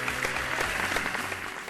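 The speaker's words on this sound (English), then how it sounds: "So I think we all need to clap for them a little." An audience claps for contestants at a spelling bee competition final, a dense, steady burst of applause filling the room throughout, with no voices on top.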